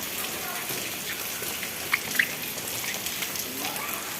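Rain falls in a steady, hissing wash with a few brief drip-like taps near the middle, fairly close and constant throughout.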